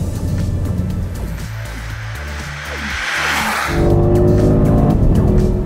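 A Mercedes-AMG GLS63 SUV accelerates hard. Its engine note rises and falls through gear changes, loud and close, with no talk over it.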